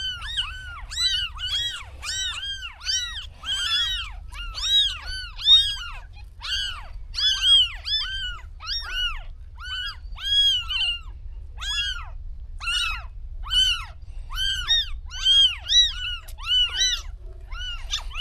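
Newborn kittens mew and cry continuously, rapid high-pitched calls overlapping in a steady stream close by, with no talk.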